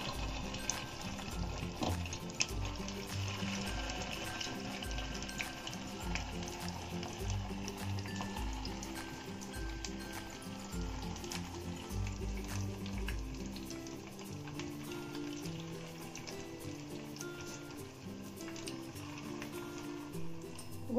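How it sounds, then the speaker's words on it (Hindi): Tikki patties fry in hot oil in a pan, a steady low sizzle and bubbling hiss that continues softly for about twenty seconds with no talk. "तेल गरम हो गया है और अब हम इसमें टिक्की डाल देंगे।"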